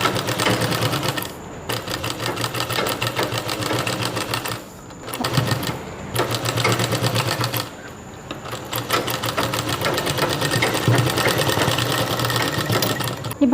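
A sewing machine runs in fast, steady bursts as it stitches a folded cross piece around the neck of a two-year-old's baby dress, with short pauses between runs and no voices.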